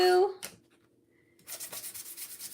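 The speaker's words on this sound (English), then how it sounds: "we're sanding and waxing is what we're doing to get everything prepped to chalk on" Hand sanding of a wooden scalloped Christmas sign, a steady rhythmic rubbing close by after a brief bit of speech and a pause.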